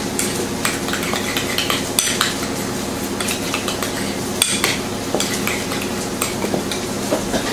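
Marinated ide fish pieces are stirred in a bowl, with continuous close scraping and clinking of a utensil against the dish and occasional sharper knocks.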